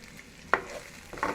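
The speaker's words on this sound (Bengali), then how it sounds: "একটু ফ্রাই করে নিচ্ছি।" Chopped tomato pieces stirred in a frying pan, with two sharp scraping stir strokes over a faint sizzle, near and fairly quiet.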